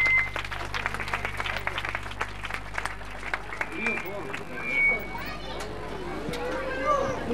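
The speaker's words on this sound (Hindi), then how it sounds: "आप लोगों की भरपूर तालियां होनी चाहिए।" An audience claps in a hall, a ragged patter of hands over steady background hum, with voices and children's chatter mixed in.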